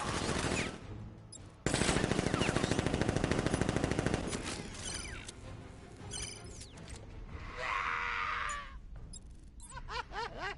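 Sustained automatic gunfire from guards in the video game Batman Arkham Knight, loud dense bursts with a rapid rattling stretch in the middle, followed by scattered shots and whooshing effects.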